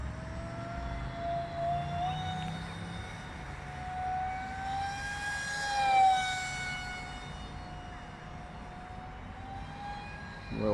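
A small model airplane hums steadily overhead outdoors, its engine tone rising and falling as it passes and maneuvers, moderately distant with a brief swell in loudness midway.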